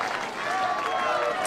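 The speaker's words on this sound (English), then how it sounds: "Crowd getting into it early." Crowd noise at a college softball stadium during a Georgia vs Florida Super Regional game in Gainesville, a steady broad roar of cheering and clapping with a commentator talking over it.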